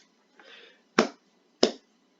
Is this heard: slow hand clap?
yes